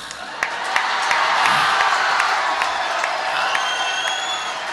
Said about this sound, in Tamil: முத்தங்கரையில இவ்ளோ கைத்தட்டல் வருதுங்கயா